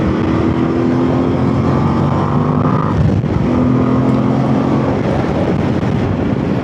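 A Voge DS800X Rally motorcycle engine, still being broken in, drones steadily under light throttle while riding, with a sustained hum and a small dip and rise in pitch midway, heavily mixed with loud wind rush.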